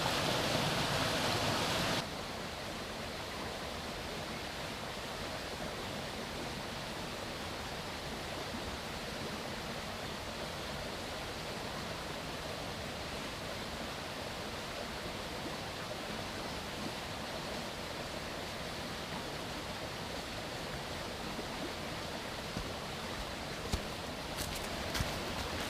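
A Blue Mountains creek pours over cascades in a continuous, even rush of water. It is moderately faint and slightly louder for the first couple of seconds, with no voices.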